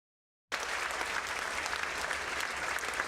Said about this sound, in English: Applause by students and faculty members at Grand Canyon University after hearing their school will return to a nonprofit status.